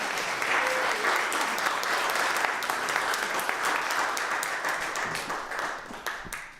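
A church congregation claps warmly to welcome a reverend about to preach, a steady wash of applause at moderate distance that gradually thins toward the end.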